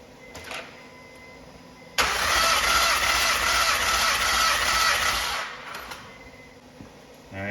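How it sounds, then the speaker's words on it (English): A Honda Pilot with a misfire is cranked over for about four seconds, a loud, steady rapid churning of the starter under the hood with no start, after a brief quieter lead-in. "Let me give it one more crank."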